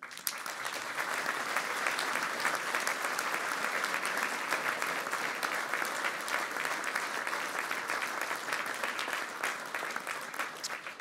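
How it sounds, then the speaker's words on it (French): A hall audience at a political group's New Year greetings speech breaks into sustained applause, a dense, even wash of many hands clapping that holds steady at a moderate, somewhat distant level throughout. "Et je voudrais aussi qu'on les applaudisse."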